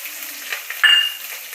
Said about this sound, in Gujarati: 1 ચમચી આપણે તલ લીધા છે એ નાખશું.